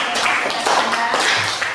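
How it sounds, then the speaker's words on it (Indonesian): Classroom applause from a group of students, a dense, steady patter of many hands that runs without a break, with faint voices mixed underneath. "Oke, kita berikan tepuk tangan"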